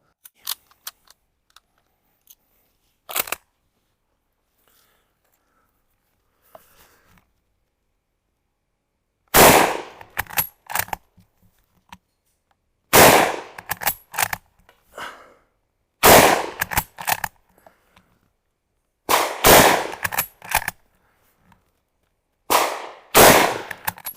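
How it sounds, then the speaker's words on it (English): Sharp, loud rifle shots from a Portuguese Mauser-Vergueiro 1904/39 bolt-action rifle, fired one at a time with long pauses between, each crack followed by a brief echoing tail. "let's fire a few shots just to warm you up."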